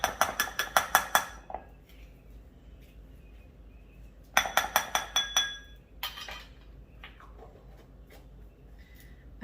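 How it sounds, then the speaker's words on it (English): A bowl clinks against other dishes as it is grabbed in a home kitchen while making chicken curry noodles: two bright rapid runs of clinks, then a few scattered softer knocks, no talking. "Let me grab a bowl."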